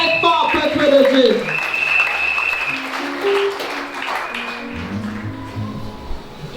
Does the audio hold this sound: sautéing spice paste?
no